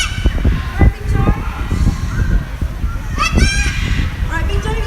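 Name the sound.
large bird screaming at a bird park show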